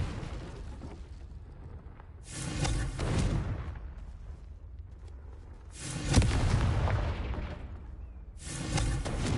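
Fiery blasts from the Confringo spell in Hogwarts Legacy: three loud, broadband bursts a few seconds apart, each with a sharp onset and a rumbling tail, over a steady background of game ambience.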